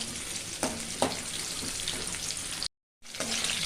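Small onions sauté in a pan with a constant close sizzle and a couple of sharp stirring clicks; the sound cuts out briefly near the end, then the sizzle resumes.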